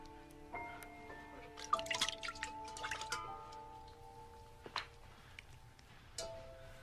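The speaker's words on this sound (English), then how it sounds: "This is water." Water drips in a few scattered, irregular drops, faint and close, over a quiet background with some soft tonal hum.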